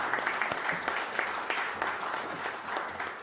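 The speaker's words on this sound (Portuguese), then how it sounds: "As palmas estão liberadas agora." Steady applause fills a Senate hall after a speech on pension reform, a dense crowd clapping continuously at moderate distance, with a faint voice underneath.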